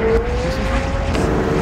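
McLaren 720S V8 twin-turbo supercar, a loud close engine note with a sustained droning tone under road and tyre noise, heard alone for under two seconds.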